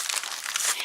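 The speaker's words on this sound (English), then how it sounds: "I'm wrapping them in aluminum foil so that they can cook more." Aluminum foil being crinkled and folded around Brussels sprouts, a short burst of close, bright rustling and crackling.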